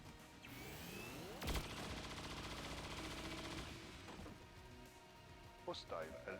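Quiet gunfire from XCOM 2 with the Long War of the Chosen mod: one sharp burst stands out early among softer game sounds and a few later cracks, with a voice talking over it.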